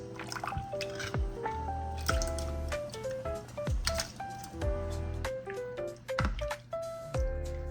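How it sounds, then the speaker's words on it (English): Diced tomatoes plop and squish wetly into a pot of cranberry sauce for meatballs, a series of soft dripping, sloppy splashes with liquid patter, close and fairly loud, with no talking. "I'm gonna add some diced tomatoes"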